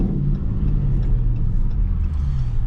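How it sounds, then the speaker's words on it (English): A Dodge Charger Scat Pack with a V8 engine, a 2021 widebody, gives a low, heavy rumble close by. The rumble is steady and throaty, with slight swells and no distinct rev peaks. "Okay, my boy Corey revving shit."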